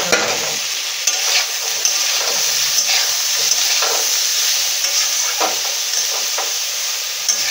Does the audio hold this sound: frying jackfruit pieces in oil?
yes